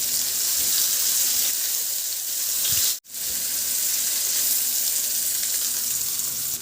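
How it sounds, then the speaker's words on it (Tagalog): Garlic and onion sautéing in hot oil in a wok for chicken sotanghon soup, a loud steady hiss of frying that cuts out abruptly for a moment near the middle, then resumes, no voices. "Sa kawali, magpainit na ako ng mantika. Igisa ko na rin yung bawang. Igisa ko na rin yung sibuyas."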